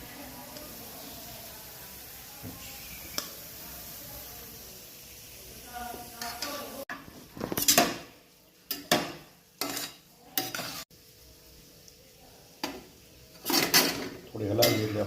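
Khichdi being stirred in a cooking pot, with a run of scraping, clattering strokes of a spoon against the pot in the second half, following a quieter stretch of faint kitchen noise.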